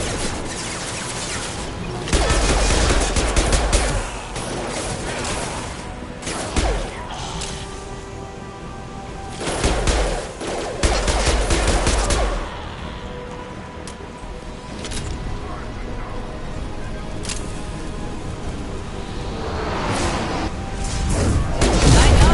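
Weapons fire and heavy impacts in Mass Effect 2 on PS4 land in loud, crashing bursts with whooshes and thuds. The bursts are spread across the stretch between quieter game ambience.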